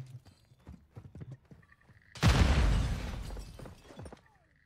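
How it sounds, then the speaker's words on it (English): A grenade goes off in Call of Duty DMZ: a sudden loud, close burst with a shattering crack and a rumbling tail, after a stretch of clopping footsteps. "Grenade!"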